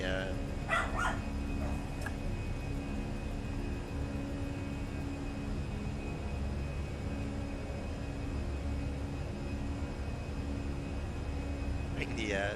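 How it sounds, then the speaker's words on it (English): A dog barks and yips a few times early on, near the start and around two seconds, at someone outside a window, over a steady drone of airliner flight-simulator engine noise. "dog going. He's seen someone out the window."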